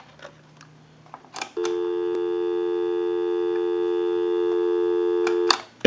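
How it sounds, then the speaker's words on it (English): A steady, loud dial tone on an AT&T Trimline telephone starts after a couple of brief clicks, holds unbroken for about four seconds, and then cuts off with a click. "Go ahead and give you some dial tone"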